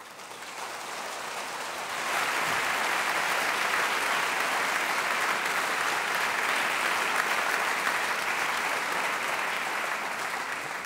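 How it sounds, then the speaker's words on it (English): A conference audience at a European forensic science meeting gives a warm round of applause for the organizers, a dense sustained clapping that swells after two seconds and stays loud and even to the end. "please give all a warm round of applause for the organizers"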